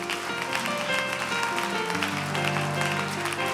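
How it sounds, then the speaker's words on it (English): Church congregation clapping hands together at the close of a service, a dense steady wash of applause mixed with organ or keyboard chords and crowd voices, loud and continuous. "Let's clap our hands one more time."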